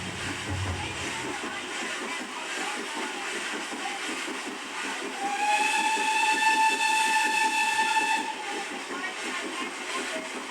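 A steam locomotive's whistle sounds in a sustained blast of several seconds with layered tones over a steady rolling hiss and rail clatter, heard from inside a passenger carriage on a steam train journey.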